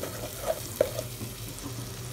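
Spices and turmeric are stirred into chicken kabsa in a hot pan: a steady, close sizzle with a few soft scraping knocks from the stirring.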